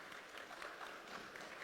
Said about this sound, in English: please let's give one last round of applause to our able panelists